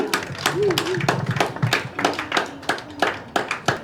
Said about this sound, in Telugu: సో మీ తరపున చప్పట్లతో వారిని అభినందించాలి